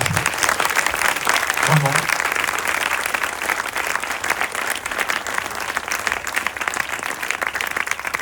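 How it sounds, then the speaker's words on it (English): Sustained, dense audience applause at a Paris film premiere of The Six Triple Eight, loud and continuous from start to finish, with a voice briefly heard over the clapping. "je pense que vous pouvez même les applaudir"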